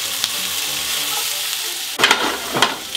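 Garlic fries in a pan and is stirred, giving a soft continuous sizzle with bright scraping bursts near the end as the pieces get turned over.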